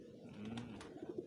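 A pigeon or dove, in a setting where birds are kept and shipped, gives a soft, low coo, faint against background noise, followed by a few short throaty pulses.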